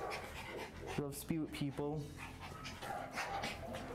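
A two-year-old Brussels dog at an animal shelter pants and gives short yips and barks close by, under a person speaking.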